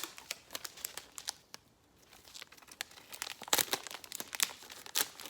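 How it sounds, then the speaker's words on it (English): Tape is wrapped over the end of a cardboard tube, making close, irregular crinkling and tearing crackles with a brief quiet gap, then a denser run of sharp rustles. "I'm going to cover it and cover over the end. Cover another piece of tape so I don't spill."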